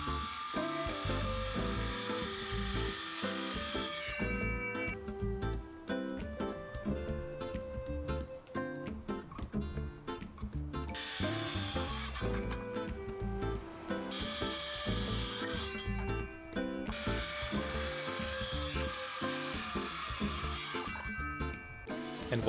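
A power saw cuts steadily through a wooden desk for over twenty seconds. Its whining, humming drone shifts in pitch and intensity as the blade bites and eases, loud and close throughout.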